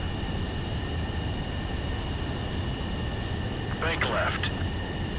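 Jet aircraft on landing approach in Ace Combat 7, a steady loud roar of engine and wind noise throughout, with a brief radio voice breaking in near the end.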